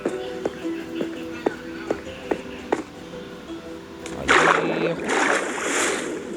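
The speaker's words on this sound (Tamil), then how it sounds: "கைஸ் நீந்தி தான் போகிற மாதிரி இருக்குது. ஸோ வாங்க நீந்தி போகலாம்." Swimming through water in Minecraft: a few evenly spaced light game clicks give way to a burst of splashing, sloshing water strokes that continue to the end, close and moderately loud.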